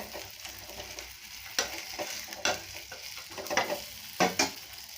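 Ragi roti with vegetables frying in oil on a pan, a soft continuous sizzle with intermittent crackling bursts and light scraping, close and fairly quiet.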